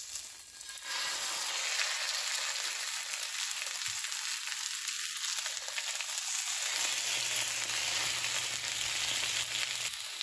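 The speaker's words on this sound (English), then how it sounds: "I think my pan is hot enough, so I'm going to lay the salmon in" Skin-on salmon fillets laid into a hot pan, breaking into a loud, steady frying hiss that fills the scene, with a voice speaking briefly over it early on.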